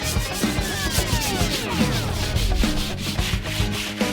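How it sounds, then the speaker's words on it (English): Steady, rhythmic scratchy rubbing of sandpaper on wood, close and continuous with repeated back-and-forth strokes. "Now a little sanding will whip this block into shape."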